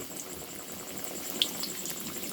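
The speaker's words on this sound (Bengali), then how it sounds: "এখন আমরা তেলে ভেজে নেব" A stuffed Mughlai paratha fries in hot oil in a pan, giving a continuous, fairly soft sizzle and bubbling hiss with a faint pop or two.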